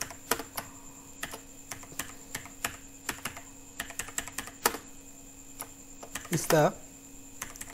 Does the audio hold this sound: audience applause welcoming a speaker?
no